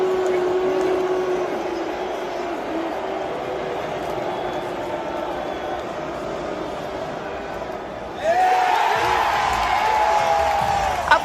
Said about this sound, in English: Of course, everyone booed.